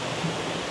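Water splashes and rushes steadily in a fountain inside a three-level shopping mall, a continuous broadband wash of falling water with no voices over it.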